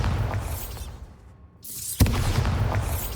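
Bombarda blasting spell in Hogwarts Legacy gameplay, a heavy booming explosion with rumbling debris, a sudden quiet gap, then a sharp crack and another rolling blast.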